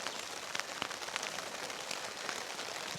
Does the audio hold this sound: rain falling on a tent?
yes